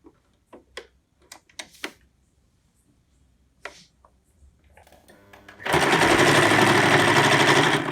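A sewing machine stitches an extra pocket onto an apron sewn from an old kurti. It starts after a few short handling clicks and then runs at a loud, steady, continuous whir through to the end.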